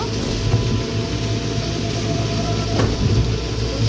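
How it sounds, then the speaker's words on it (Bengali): Steady heavy rain roars with a dense hiss and low rumble, continuous throughout with no voices, heard while riding in an e-rickshaw. "এখন ভালো জোরে বৃষ্টি পড়ছে"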